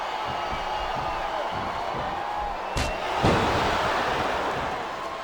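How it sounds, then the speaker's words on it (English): A large crowd roars and cheers steadily throughout a wrestling video game match, Smackdown vs Raw 2007 on PS2, with a sharp slam partway through and the noise swelling after it. "It sounds like this capacity crowd has something on their minds, Taz."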